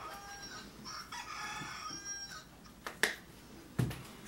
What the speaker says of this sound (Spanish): ya estamos con el gallo.